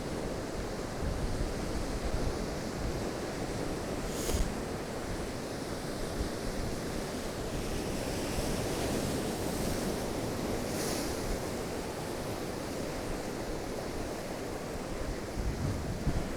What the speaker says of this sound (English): I've got nice waves crashing against the rocks behind me.